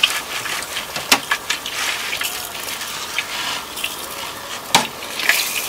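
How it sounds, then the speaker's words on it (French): Water is poured over leek and onion seedlings, giving a close, fairly loud splashing gush with irregular spatters and a few sharper drips. "Je vais venir arroser mon semis."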